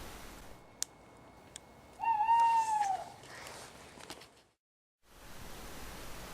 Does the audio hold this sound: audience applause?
no